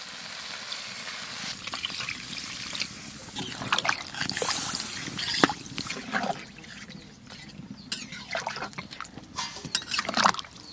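Water is poured into a jackfruit and small fish curry cooking in a pot over a fire in a rural tribal kitchen, a steady liquid trickle and sizzle running throughout at moderate loudness, with no talk.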